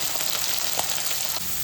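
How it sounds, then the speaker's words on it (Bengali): Tangra fish frying in hot oil makes a steady, close sizzle with light crackle, no voices over it. "এই যে ট্যাংরা মাছটা ভাজছি"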